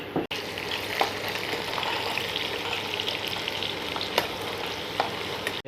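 Onions frying in a pan give a steady, close sizzle throughout, broken by a few light clicks of stirring, with no talking.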